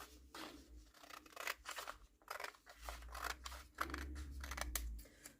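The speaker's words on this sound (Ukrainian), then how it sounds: "Зараз я виріжу сам бочок." Scissors cut through dress fabric along the side seam and armhole line, a close series of crisp snipping and crunching strokes in an irregular rhythm, quiet and without talk.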